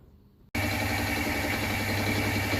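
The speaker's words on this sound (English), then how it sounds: "I've just lined the milling cutter up, a 1/2 inch milling cutter, just by eye on the centre line, and I'm going in" A milling machine fitted with a 1/2 inch milling cutter starts up abruptly after a short quiet moment, then runs with a loud, steady, close mechanical drone and hum.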